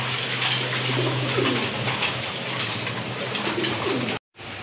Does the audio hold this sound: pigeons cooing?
yes